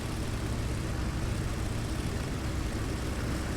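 A small single-engine airplane flying between Guntersville and Huntsville, Alabama, heard from inside as a steady, loud, broadband engine and propeller drone with no break.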